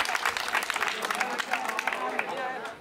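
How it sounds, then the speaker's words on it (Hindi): Dense, steady clapping from a seated audience at a Hindi poetry gathering fills the room, with scattered voices underneath. "एक बार पूरा सदन दोनों हाथ उठाकर ताली बजाए और उन्हें आमंत्रित करे"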